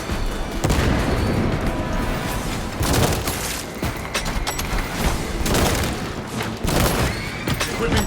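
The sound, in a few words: frag grenade explosion and gunfire in Space Marine 2 video game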